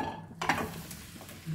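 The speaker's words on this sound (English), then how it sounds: "without oil, we'll fry our trotters." Pork trotters fry in a dry pan with no oil: a metal clatter as they go in, then a light, steady sizzle with scraping and stirring.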